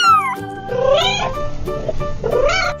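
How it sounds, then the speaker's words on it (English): A cat lets out several drawn-out, wavering meows, close and clear, over soft sustained background music. "cat"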